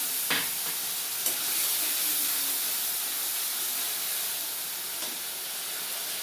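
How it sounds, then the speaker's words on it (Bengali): Curry of papaya with lentil fritters being sautéed in a pan with a little water: a steady close sizzle and hiss of frying, with a few faint stirring scrapes and taps. "বাটি ধোয়া একটু জল দিয়ে আমি ভালোভাবে এটা কষিয়ে নেব।"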